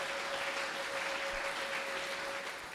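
Applause at a Christian church service, a dense, sustained clapping from a congregation, steady and fairly loud throughout the short stretch with no talking above it.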